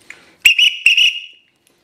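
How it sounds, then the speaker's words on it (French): A handmade copper roller whistle gives a brief faint peep, then two loud, shrill blasts, each warbling from the rolling ball inside, heard close up with no talking. "Un bon petit sifflet. Voilà, tout en cuivre."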